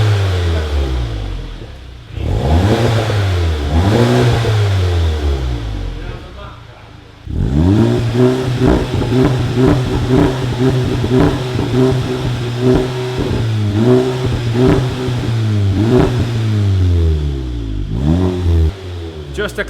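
A Golf GTI engine with its exhaust resonator deleted starts and revs repeatedly, the rising and falling pitch rasping loudly between steadier idle stretches, close by.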